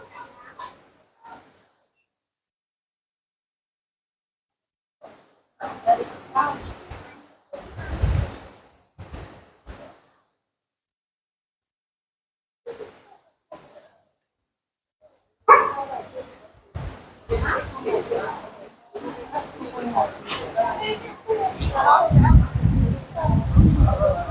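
Husky dogs at a husky cafe give intermittent barks and yips in short bursts amid quiet gaps, growing busier and louder toward the end, with voices talking nearby.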